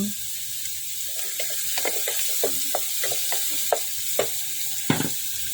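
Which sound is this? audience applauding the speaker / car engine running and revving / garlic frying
garlic frying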